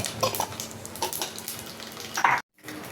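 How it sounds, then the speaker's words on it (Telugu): Mustard seeds and cumin frying in oil for a fish curry, a close crackling sizzle with sharp pops, ending in a brief silence. "పావు కిలో నూనెలా కొన్ని ఆవాలు వేయాలి. తర్వాత కొన్ని జీలకర్ర వేసుకోవాలి ఇట్లా."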